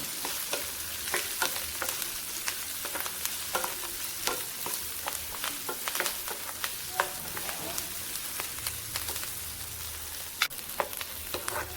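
Onions frying in a pan while being stirred, a steady hiss of sizzling oil with frequent sharp taps and scrapes of a spatula against the pan, close up and moderately loud, no speech.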